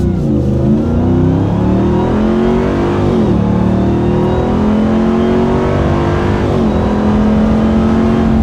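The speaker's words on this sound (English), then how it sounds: "Something else I like to do is put my foot into it. So let's give her a listen." A RAM 1500 TRX fitted with an MBRP 3-inch cat-back dual rear exit exhaust accelerates hard, its loud engine roar climbing in pitch and dropping at two upshifts before climbing again.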